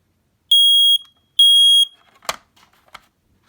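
A Kidde i9060 ionization smoke alarm sounding during a test, giving two loud, piercing half-second beeps close by, followed by a few faint clicks and handling knocks.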